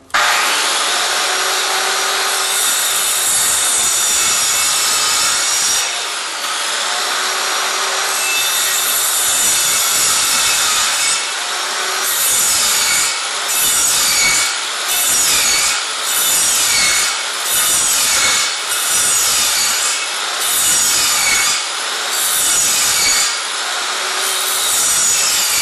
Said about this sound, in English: with our skill saw blade set at 3/4 inch deep, we're going to cut grooves in between these lines